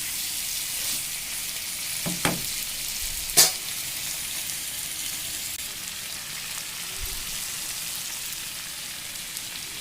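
Snakehead fish curry with tender bottle gourd sizzles and fries steadily in a covered pan, a continuous close crackle broken by a few brief clinks of a utensil.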